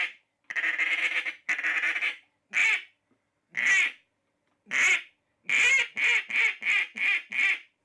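A handmade wooden duck call blown to imitate a lonesome duck gives a series of loud, close quacks: a few long drawn notes, then a quicker run of short, evenly spaced quacks at the end.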